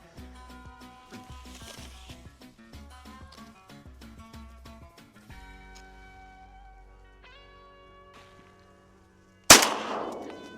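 Shotgun blast during a duck hunt in flooded corn on the prairie potholes, a single loud, sharp report near the end, following a stretch of tonal, musical sound.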